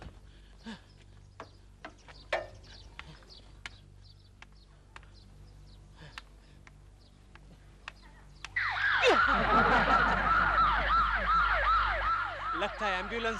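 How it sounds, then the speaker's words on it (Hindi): Ambulance siren arriving partway through a comedy street scene, loud and close with a rising and falling wail that cuts in abruptly after several seconds of quieter background noise and scattered clicks. "लगता है एम्बुलेंस थी।"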